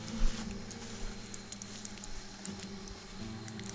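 Rain patters faintly outside, a soft, steady, even hiss of drops with a few slightly louder taps near the start, heard alone without talk.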